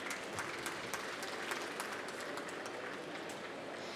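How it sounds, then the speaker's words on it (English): Audience applause at a COP27 session on financing resilient food systems, greeting Norway's international development minister; an even, continuous wash of clapping heard from a moderate distance with no voices over it. "Round of applause, please"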